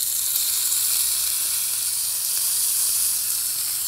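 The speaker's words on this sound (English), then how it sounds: "we're gonna go right into the pan with our frozen steaks" Frozen steaks sizzling in hot oil in a pan give a loud, steady, hissing crackle, close and unbroken throughout.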